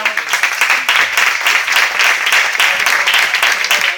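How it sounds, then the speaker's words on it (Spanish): A seated audience at a Spanish conference on managing neighborhood conflicts gives loud, close applause, dense overlapping clapping with a pulsing rhythm that holds steady from start to finish without speech. "Un aplauso a..."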